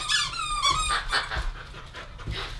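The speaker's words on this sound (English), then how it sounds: "I know you like the soft squeaky." A dog plays with a soft squeaky toy, rapid high squeaks mixed with panting, close and fairly quiet, with no talking.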